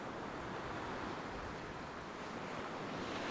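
Ocean surf breaking on a beach with white water over a deep channel, heard as a steady, dense roar of waves with some wind noise on the microphone and no voices.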